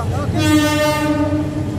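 A train passes right beside the Karwan Bazar fish market in Dhaka, its loud sustained horn blaring over rumbling wheels and carriages for the whole moment.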